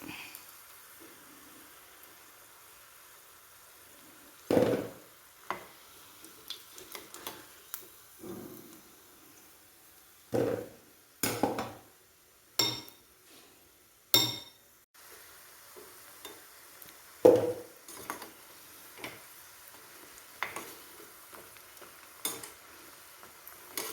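Cauliflower bajji deep-frying in oil, with a utensil stirring and scooping the pieces out: scattered metallic scrapes and knocks against the pan over a faint, quiet sizzle, no talk.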